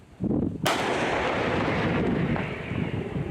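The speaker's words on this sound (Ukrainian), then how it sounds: "Головною зброєю польської гаубиці є 155-мм гармата з довжиною ствола 52 калібри" A single heavy 155 mm Polish Krab self-propelled howitzer blast booms out close by, a sharp crack followed by a long rumbling roar that slowly fades.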